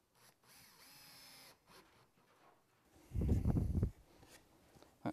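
Wooden bird box parts being screwed together, a short burst of powered screwdriving for under a second following quieter handling and rustling.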